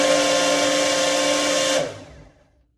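A blender whirs loudly and steadily as it mixes berries, lemon juice and sweetener for a jelly, then shuts off and winds down to silence.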